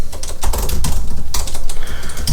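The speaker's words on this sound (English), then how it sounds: "I'm standing up while typing" Someone standing types quickly on a computer keyboard, producing a close, loud, uneven run of key clicks and clatter with brief pauses between bursts.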